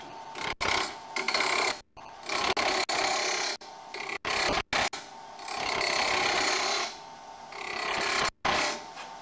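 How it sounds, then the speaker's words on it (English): A piece for a wobble chuck turns on a wood lathe while a tool cuts into it, producing a loud raspy scraping broken by short pauses between passes. "Turn the lathe on and create the final section."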